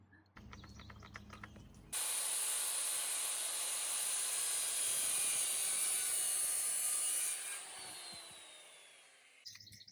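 A power saw cuts a wooden board for a cabin sill plate, a steady loud whining buzz that holds for several seconds, then winds down as the blade slows, with brief clatter before and after.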